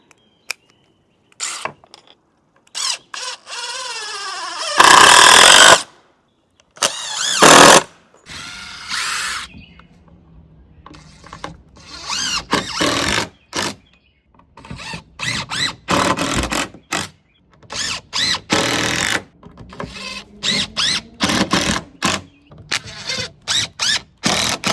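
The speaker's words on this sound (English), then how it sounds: "I can drive in the screws" A DeWALT brushless cordless drill drives screws into pre-drilled pilot holes in bursts of whirring, with short spins separated by pauses and a couple of louder, longer runs, close and clear.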